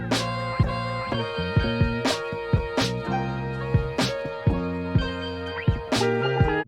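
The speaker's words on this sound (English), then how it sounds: "I put down a kick and a snare, and with the sample it sounds like this." A hip-hop beat with a kick and a snare taken from a drum kit punches through a jazzy old sample. Sharp, regular snare hits land roughly every second over the warm melodic loop.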